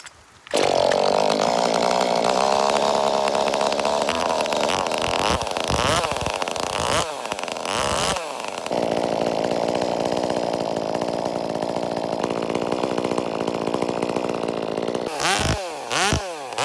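A FabCorp 2511 top-handle chainsaw cuts into a tree, its engine screaming loud and close at full throttle, bogging and revving as it works through the wood, dropping briefly to idle between cuts.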